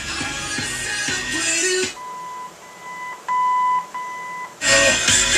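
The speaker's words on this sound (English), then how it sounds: "It'll beep once and go back to treble and bass" Controls on an original AM radio in a 1967 Ford F100 produce several clear, thin electronic beeps of different pitches, set between louder bursts of music or static at the start and end.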